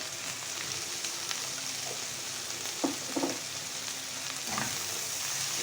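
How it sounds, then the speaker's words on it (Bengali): Kochur loti, taro stolons, frying with salt and turmeric, a steady close broadband sizzle with a few soft knocks of a spatula stirring the pan partway through. "কড়া করে ভেজে নেব"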